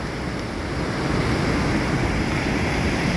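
Heavy waves surging at Kizhur estuary, Kasaragod, amid nonstop downpour; a dense, unbroken roar of surf and rain, loud and near, swelling slightly midway, with wind rumble and no talking.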